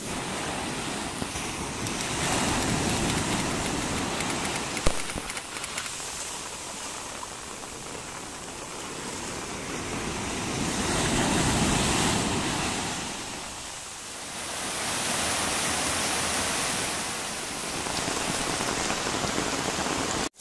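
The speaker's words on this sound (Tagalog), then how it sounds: "Malakas yung ulan, malakas din yung alon." Heavy rain pours steadily on a coastline while strong sea waves surge and crash, a loud continuous wash that swells and recedes in broad waves with no talking.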